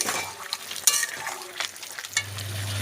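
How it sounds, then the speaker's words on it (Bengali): Potatoes being stirred into chicken curry in a pan for an egg chicken dish, with steady frying sizzle, scraping spoon strokes and light clinks of utensil against the pan, up close with no talking. "আলুগুলো এবার ভালোভাবে আমি আলুগুলো মিশিয়ে নিচ্ছি চিকেনের সঙ্গে"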